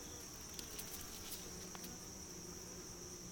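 Bees buzz around a beehive in a faint, steady insect drone that holds evenly throughout, with no voices.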